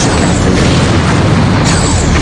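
A loud, sustained rumbling boom of a starship hull breach explosion in the space combat game Star Trek Bridge Commander, dense and continuous throughout without pause.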